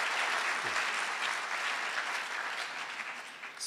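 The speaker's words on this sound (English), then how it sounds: "So a lovely round of applause to our Faculty of Humanities as well." An audience at a university memorial lecture gives a warm round of applause, a thick, continuous wash of many hands clapping evenly throughout.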